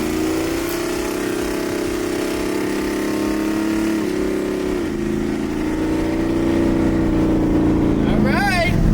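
A Jaguar engine revved with only light throttle, a continuous loud drone that rises slightly around the middle before a brief higher whine at the end, while someone talks over it.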